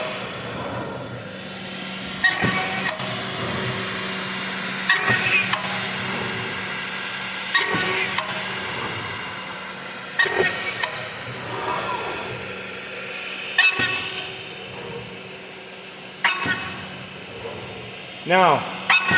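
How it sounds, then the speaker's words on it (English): ShopSabre CNC machine spot drilling and drilling part mounting holes: a steady high machine whine with repeated sharp drilling bursts every couple of seconds, close and loud, with someone talking over it at times. "And we're drilling through holes."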